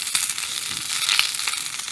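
Breakfast sizzles in a titanium pan on a camping stove during a wild camp, a steady close hiss and crackle with no voices.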